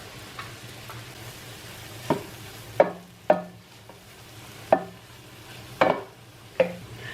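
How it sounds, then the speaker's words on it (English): Mushrooms and broccoli sauté in olive oil and butter, a soft, even sizzle punctuated by several sharp stirring clacks of a utensil against the pan, close by with no talk. "so now we're going to saute this in the olive oil and the butter"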